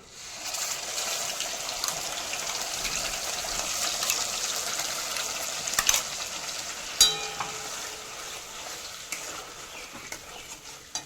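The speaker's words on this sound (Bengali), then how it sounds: "মশলাটা খুব ভালো মতো করে কষে নিচ্ছি যাতে আদা পেঁয়াজ রসুন" Ginger, onion, garlic, chilli and tomato masala paste frying in hot oil, a steady close sizzle with occasional sharp crackles and spatters, with no talk.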